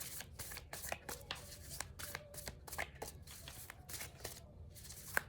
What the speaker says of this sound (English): I actually just wanted to shuffle to see what would be the bottom card.